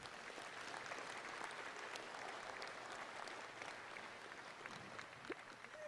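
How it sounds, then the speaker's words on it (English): At the Calgary Stampede Junior Steer Classic, an arena crowd applauds. The steady, distant clapping is fairly faint and continuous, with a brief voice near the end. "may give them a round of applause"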